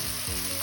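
Mustard seeds and turmeric powder sizzle loudly and steadily in hot oil in a pan while cooking poha, a dense continuous crackle with no talking.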